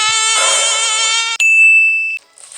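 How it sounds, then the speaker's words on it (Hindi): A housefly buzzes loudly and close in a high, steady drone near a dining table indoors, cut off by a bright ringing metallic ding, then a brief quieter hum. "ये मक्खी,"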